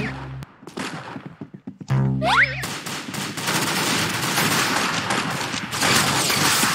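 Rapid gunfire in the Roblox-style shooter game Arsenal, dense bursts of shots layered with game effects and a rising tonal chime, loud and continuous through most of the clip.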